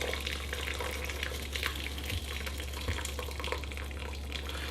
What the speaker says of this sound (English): I kind of carefully pour out about half of it.